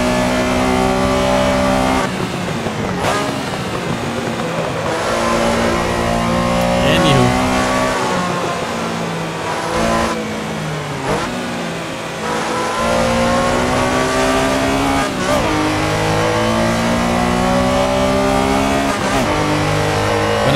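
A Porsche 911 Carrera RSR 3.0 engine in Assetto Corsa at Silverstone GP roars loud and close, revving hard through repeated gear changes with brief lifts and occasional tire squeal.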